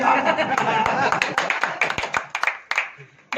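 An audience at a Holi gathering claps in a loose, uneven burst, close and fairly loud, with chuckles and voices talking over it, and the claps thin out toward the end.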